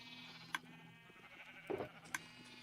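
A Minecraft sheep bleats once in a short, low, clear call, set between a couple of sharp clicks against a quiet game background.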